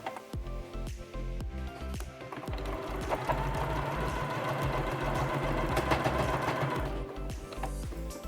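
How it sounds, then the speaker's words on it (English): Domestic sewing machine running steadily as it stitches the side seams of a man's shirt being remade into a dress, a close continuous motor hum with fine needle clatter lasting throughout, briefly stopping and restarting near the start. "Just sewing the side seams now."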